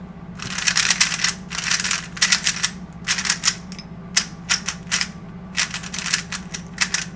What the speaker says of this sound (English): my first impressions of this cube, it's very clicky, a bit dry, and fairly uncontrollable